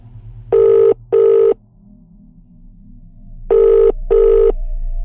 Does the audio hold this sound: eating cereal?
no